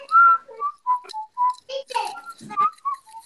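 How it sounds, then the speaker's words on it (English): A person whistles a wandering tune of short, clear notes with small pauses between them, close and fairly loud, with no talking over it. "can you not whistle?"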